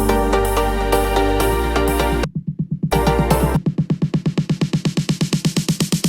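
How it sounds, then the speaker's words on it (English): A sampled snare roll builds inside a melodic house track, quick repeated snare hits speeding into a tight rolling pattern under a thick synth and bass bed that drops out briefly before the roll drives on. "we have a snare roll coming in."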